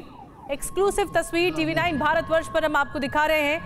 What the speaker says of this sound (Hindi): लगातार सायरन बज रहे हैं